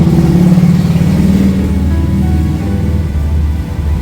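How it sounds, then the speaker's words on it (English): Loud engine rumble from passing motorcycles in Gettysburg, Pennsylvania, a steady low growl that swells and fades, with no voices over it. "Loud motorcycles again."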